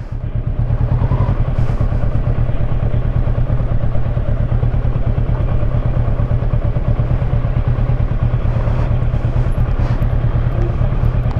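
A Kawasaki Versys motorcycle engine runs steadily on a road trip, a loud, close, low pulsing drone with rhythmic throb and wind noise, constant throughout with no break.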